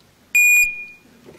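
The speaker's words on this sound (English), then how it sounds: "The dying battery in a smoke detector." A smoke detector with a dying battery gives a single sharp, high electronic chirp that rings briefly and fades in a quiet room at night.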